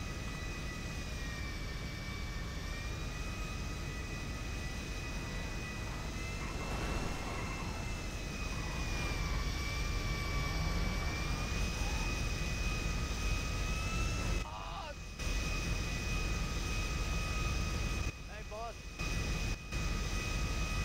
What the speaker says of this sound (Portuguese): eu estou a descolar o avião